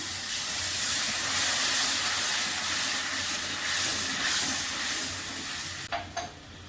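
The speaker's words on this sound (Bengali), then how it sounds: "মশলা কষানো হয়ে গেছে জল দিয়ে দিচ্ছি" Water hits hot cooked spice masala in a pan, setting off a broad, loud hissing sizzle that holds steady, then drops off near the end with a couple of brief clinks.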